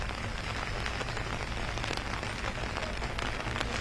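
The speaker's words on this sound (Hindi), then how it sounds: "रुक रुक कर बारिश हो रही है या फिर मूसलाधार बारिश?" Heavy monsoon rain falls in Himachal Pradesh, a dense steady hiss of drops hitting surfaces, loud and unbroken throughout, with no voices.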